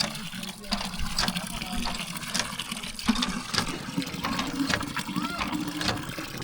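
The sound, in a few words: water from a hand pump filling a clay pot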